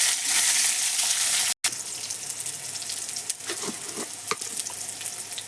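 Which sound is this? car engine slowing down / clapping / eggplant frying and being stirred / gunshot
eggplant frying and being stirred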